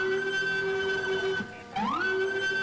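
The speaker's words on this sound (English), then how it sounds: "we have this big ol' loud siren that I really like" A police siren in the Roblox game Coastal Heat wails with a steady high tone, drops briefly, then sweeps back up to its sustained pitch, loud and alone.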